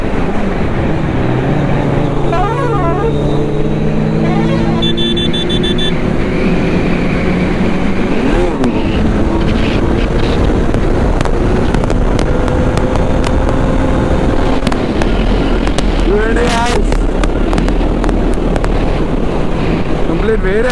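A group of Kawasaki Z900 motorcycles riding on the road from Karimnagar to Siddipet, their engine notes rising and falling beneath a constant heavy roar of wind rush.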